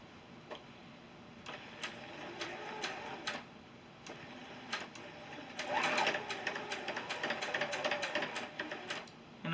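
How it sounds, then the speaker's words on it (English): A sewing machine stitches quilt patches together for a beginner's checker-square sampler block, its needle ticking in steady rapid bursts that pause and restart, growing louder and busier toward the end, with no talking. "then stitch these 2 together"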